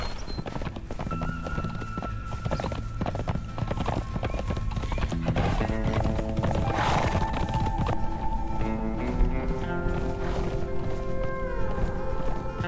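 Horse hooves clip-clop at a quick, steady rhythm in Conan Exiles, close and continuous for over twelve seconds, with a whinny partway through and game music and tones layered underneath.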